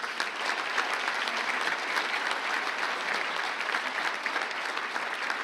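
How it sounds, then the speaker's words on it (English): Steady audience applause fills a banquet hall at a community breakfast event, dense, continuous clapping from a large crowd with no talk over it. "Can we give her another round of applause?"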